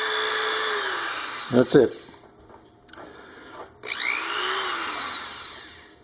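A repaired Dremel rotary tool stuck on a single speed whines at close range in two bursts with a brief rattling stop between them, and a short spoken remark falls in the quiet gap.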